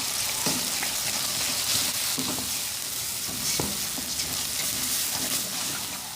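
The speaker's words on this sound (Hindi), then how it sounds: "अब हम 2 अंडे डालेंगे और इसे अच्छे से मिक्स करेंगे।" Two eggs go into a frying onion curry for egg and onion salan and are stirred in, giving a steady close sizzle with intermittent scraping stir strokes throughout.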